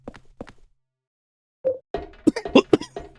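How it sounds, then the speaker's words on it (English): Video game coughing in Silent Hill 4: The Room: a couple of faint coughs, then after a pause a louder cough followed by a burst of rougher coughing and hacking. "Is that cough from earlier back?"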